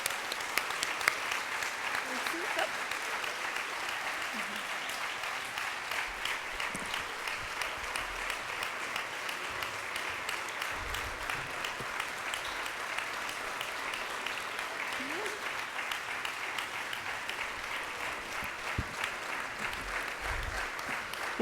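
Sustained audience clapping at the closing session of the Island Biology 2019 conference, honoring staff and students, fairly even and moderate, with scattered voices and small noises mixed in.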